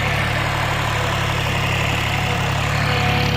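An 18 hp tractor engine idles close by, a steady, unbroken mechanical drone with a regular low pulse that stays constant in loudness.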